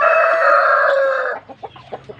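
A rooster lets out one loud, close crow that holds steady for over a second, then breaks into a few short clucks.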